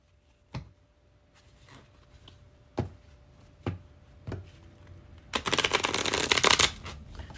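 Tarot cards are tapped and squared several times in sharp, spaced knocks, then riffled in a quick, loud burst of fluttering shuffling close by.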